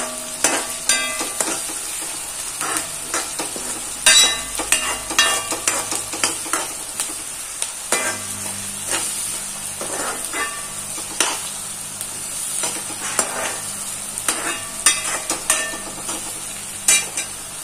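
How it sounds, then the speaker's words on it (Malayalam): Grated carrot with salt sautéing in a pan for carrot thoran, a steady close sizzle broken by frequent scraping stirs of a spoon against the pan. "അപ്പൊ അതിട്ട് നന്നായി ഇത് വഴറ്റിയെടുക്കാം."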